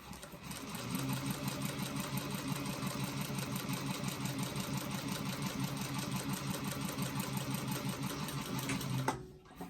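A sewing machine with a walking foot stitching a vinyl bag, running in one continuous rapid mechanical whirr for about eight seconds before stopping, close and steady.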